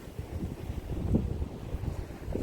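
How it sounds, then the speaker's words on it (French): Strong wind at a campsite in Andalusia buffets the microphone with continuous low rumbling gusts that swell and ease, close and fairly loud, with no voices. "on a fait un petit camp un petit peu fermé parce qu'il y a beaucoup de vent"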